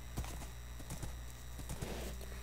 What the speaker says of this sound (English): Let's take our new horse for a ride.